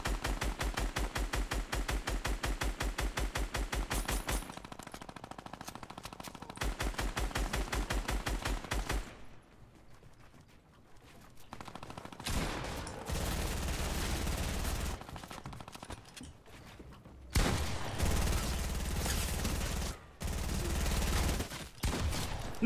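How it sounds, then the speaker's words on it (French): Rapid automatic gunfire bursts from a Fortnite match, loud and close, coming in dense volleys with short gaps between them and a quieter stretch in the middle. "On tire tous les deux dessus."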